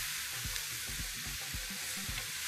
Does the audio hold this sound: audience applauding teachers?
no